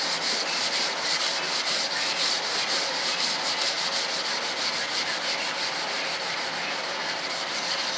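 Filler on a model aircraft build is sanded by hand in steady, continuous strokes. The rough, even abrasive scratching is close and uninterrupted, with no voices.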